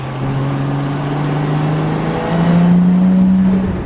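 A Toyota JZX engine revs hard through a quick acceleration pull, a steady droning note that climbs slightly in pitch and grows louder about halfway through, with no talking over it.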